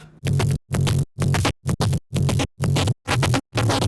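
A synth track with an SSF phasing effect plays in eight rhythmic chopped bursts separated by short silent gaps, each burst loud and full with a swirling tone.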